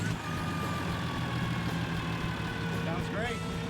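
The diesel engine of a 1984 Bayliner 3870 boat, freshly repowered, runs steadily after start-up with a constant low rumble and hum, loud and close, and a faint squeal rising near the end.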